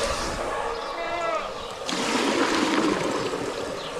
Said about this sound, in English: I use a clean bucket, dip water out of this tank.